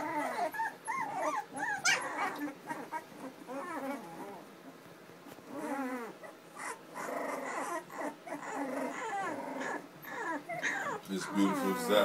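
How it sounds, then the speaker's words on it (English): A litter of three-week-old puppies whimpers and squeals almost without a break. Overlapping high-pitched cries rise and fall close by for the whole stretch. "Puppies."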